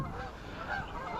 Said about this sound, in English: Oh, those geese are loud today.